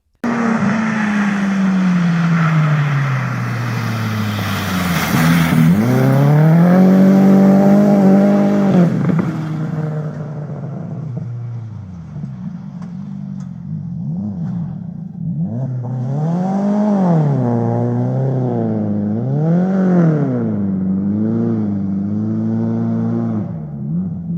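A Nissan S13 rear-wheel-drive rally car storms along a stage with an uphill corner, its engine revving hard and changing pitch through gear shifts, loud and close throughout as it passes and climbs away.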